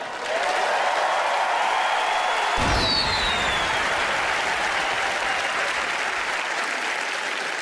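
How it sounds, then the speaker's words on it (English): A television studio audience applauds at a magic show, a loud, dense, sustained ovation swelling in and holding steady to the end, with a brief sharp accent near the start. "Applaud for Teller."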